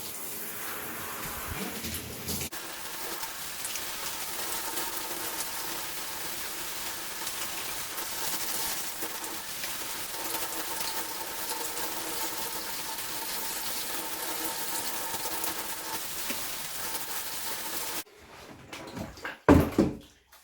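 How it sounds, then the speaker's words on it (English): Water runs through aquarium airline tubing in a steady, soft hiss for most of the stretch, ending with a few louder knocks and handling noises. "And we're going to run some water through the airline just to make sure nothing is in there."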